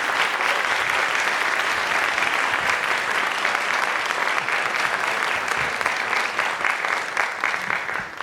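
A theater audience at Westport Country Playhouse applauds to welcome speakers. The steady, full clapping from a large crowd goes on for the whole stretch, with no voices over it.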